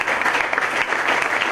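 A crowd claps continuously and fairly loudly through a short burst, applauding youth football players at a sports club gathering in San Salvo.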